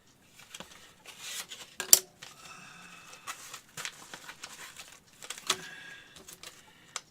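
Package from the mail being opened up close: scattered crinkling, tearing and rustling of packaging with small knocks and clicks, fairly quiet and irregular.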